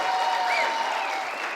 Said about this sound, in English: How about a round of applause for our state champion team right here, huh?